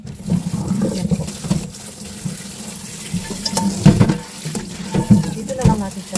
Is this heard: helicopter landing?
no